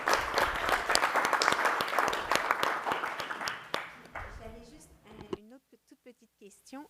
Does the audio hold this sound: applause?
yes